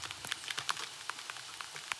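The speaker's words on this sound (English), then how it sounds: "The fact that you are here under the rain" Rain falling on a surface, a dense patter of scattered drops hitting close by, light and steady with no voices.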